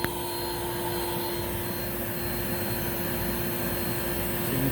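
A Rainbow SRX vacuum cleaner runs with its hose laid out straight into an airflow test box, giving a steady, even whooshing whine with a faint tonal hum, constant throughout and without talking.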